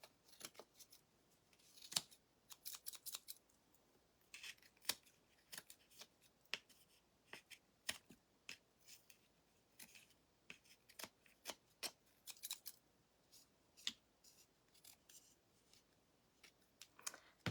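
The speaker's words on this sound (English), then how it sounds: "let me trim a little bit more." Scissors snip repeatedly while trimming wooden shims for a rustic tree craft: crisp, close cuts in an irregular rhythm, some quick clusters, on a quiet background with no talk.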